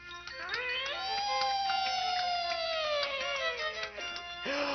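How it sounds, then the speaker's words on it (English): A toy bicycle handlebar siren gives a steady, sustained wailing tone with a harmonic, slightly wavering pitch, close and fairly loud, ending in a short rising squeal. "it's a little siren for my handlebars"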